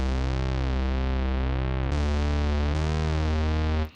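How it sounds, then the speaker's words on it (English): A buzzy, droning analog synthesizer bass in Ableton Live holds steady notes with a warbling, chorused texture, changing pitch twice before cutting off abruptly. "And this is what we call an analog synth inside Ableton."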